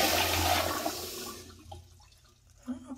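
A 1999 FV Briggs toilet in an office building restroom flushes with a loud rushing surge that drains away after about a second and a half, leaving faint trickling and gurgling.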